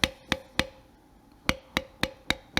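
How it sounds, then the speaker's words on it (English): A leather beveling tool struck by a mallet while carving a floral leaf design into a belt gives crisp, ringing taps, about eight of them in an uneven rhythm, close and clear with no talk. "bevel the front of this leaf here"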